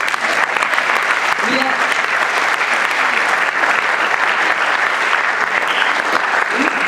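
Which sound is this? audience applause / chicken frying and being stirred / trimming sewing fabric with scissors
audience applause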